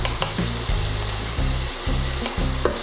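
Onions sizzle steadily in a hot pan as they soften and turn translucent, with a few scraping stirs breaking the loud, continuous frying hiss; a low hum runs underneath.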